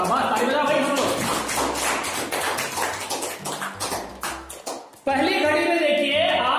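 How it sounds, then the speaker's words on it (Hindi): Children in a classroom clap their hands in a burst of quick, close, sharp claps that thin out before stopping, and a voice speaks briefly at the end. "ताली बजाओ भाई हम लोग"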